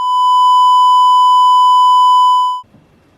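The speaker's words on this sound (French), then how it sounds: "Là, ça nécessite des bip." A steady, loud censor bleep at a single pitch cuts over a French drinking-game show. It holds for about two and a half seconds, then stops abruptly, leaving only faint low rustle.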